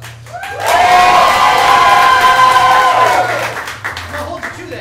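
A live improv comedy audience in St. Pete bursting into loud cheering, whooping and applause for an imagined five-point game, swelling quickly, holding, then fading out.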